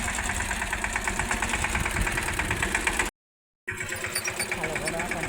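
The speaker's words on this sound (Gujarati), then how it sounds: "હાલો જો ટ્રેક્ટર આવી ગયું છે," A tractor engine with a farm implement attached chugs steadily at close range, its rhythmic knocking idle broken by a brief silent gap midway.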